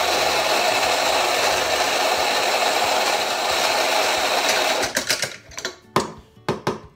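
A coffee grinder whirs steadily as it grinds beans, loud and close, then stops, leaving several brief knocks and taps.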